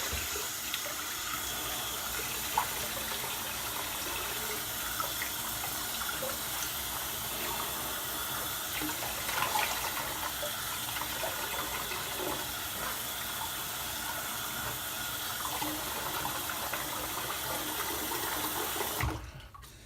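A bathroom tap runs steadily while someone rinses off after a shave, a continuous close gush of water lasting about twenty seconds before it cuts off.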